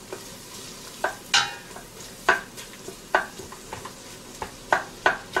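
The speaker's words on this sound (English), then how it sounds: "get the sizzling going" Two medium onions sizzle in butter in a pot while a spoon stirs them, each scrape and stir sharp and close over a steady frying hiss.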